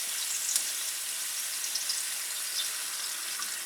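Heavy cream poured into a hot skillet of salmon, a continuous close, bright hiss of sizzling that holds steady throughout with no voices.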